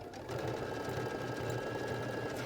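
A Baby Lock sewing machine fitted with a Garment Maker foot stitches fabric in a fast, steady mechanical chatter that starts after a short pause and runs on close and even.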